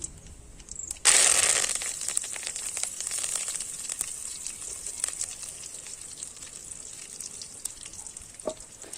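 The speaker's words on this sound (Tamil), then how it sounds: "கடுகு பொரிஞ்சதும் காஞ்ச மிளகாய் அதில் இருக்கிற அந்த விதைகள்லாம் எடுத்துட்டு கருவேப்பிலையும் அதையும் போட்டுக்கலாம்" Mustard seeds, dried red chillies and curry leaves fry loudly in hot oil for a village-style mushroom fry, an abrupt burst of crackling and popping that settles into a steady close sizzle with scattered spits.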